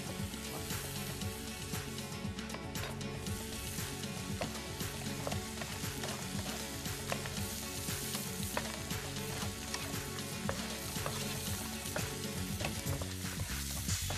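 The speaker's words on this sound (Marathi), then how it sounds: "मसाला हा तेल सुटेपर्यंत तुम्हाला थोडंसं परतून घ्यायचं आहे" Masala sautéing in oil for a dish, a loud continuous sizzle and crackle with rhythmic stirring scrapes repeating steadily throughout.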